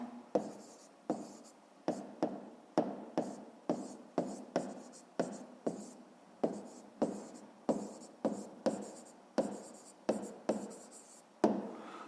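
Pen strokes on paper during a fifth-grade math exercise, a steady series of close, scratchy strokes and taps in bursts at about two per second, with no voices.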